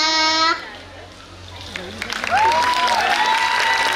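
An audience at an Independence Day celebration applauds a children's performance, with clapping and cheering swelling after a brief musical note ends, mixed with children's voices and chatter nearby.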